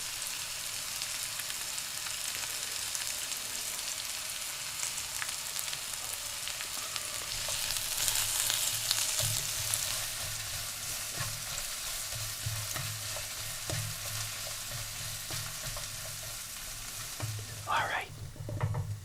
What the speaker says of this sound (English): Time to put the onions in.